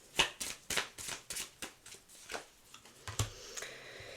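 Tarot cards being shuffled by hand, a quick run of crisp riffling slaps and flutters in an uneven rhythm, close and fairly quiet with no talk.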